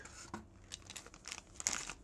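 Small plastic bag holding parts for an Arctic Freezer 34 eSports CPU tower cooler being crinkled and handled up close, a quiet run of irregular rustles and sharper crackles.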